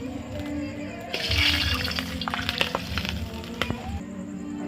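Ghee poured into a hot pot of chicken biryani rice with potatoes, a soft sizzle and frying crackle rising partway through with light stirring and scraping clinks, fairly quiet and close, with no speech.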